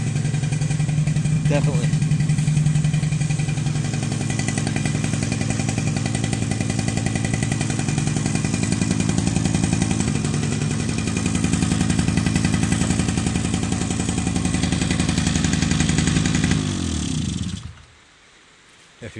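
A Suzuki LT50 quad engine fitted with a new carburetor runs loud and steady close by, a buzzing two-stroke drone with a brief rev near the start, then it cuts off abruptly near the end. A voice speaks a single word over it.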